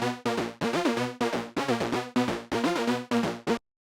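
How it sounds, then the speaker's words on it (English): Layered saw wave synth tones built in Serum play a lead line of short, bright, buzzy notes in a quick rhythmic pattern, loud and clean with no other sound, then stop abruptly near the end. "Those saw wave layers together sound like this."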